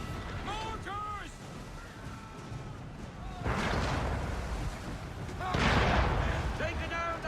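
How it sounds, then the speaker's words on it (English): Mortar cannons fire from a sailing ship during a naval chase in Assassin's Creed 3, two heavy booming volleys rolling out over a steady wash of wind and sea, with shouted crew voices in between. "Full sail! Mortars!"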